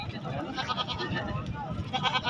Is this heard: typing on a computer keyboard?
no